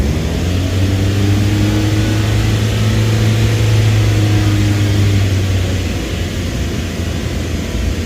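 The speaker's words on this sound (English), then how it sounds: "we're just gonna have to get this RPM up to the 3000 range right there" Car engine held at a raised steady rev around 3000 RPM to bleed air from the coolant after radiator replacement, a loud close continuous hum with sustained tones that eases slightly near the end.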